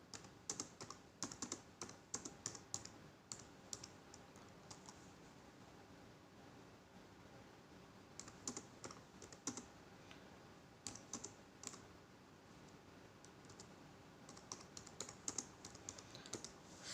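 Typing on a computer keyboard while writing a document, quick bursts of close, crisp key clicks separated by quiet pauses, with no talking.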